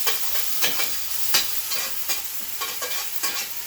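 Onion sizzles close up in a pan while a Salad Master spoon stirs it, rhythmic scraping strokes rising over a steady bright frying hiss.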